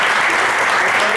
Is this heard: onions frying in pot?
no